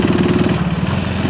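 A KTM 390 Enduro R single-cylinder engine fitted with a stage 2 intake, running with a rapid, throbbing pulse that stays steady, loud and close.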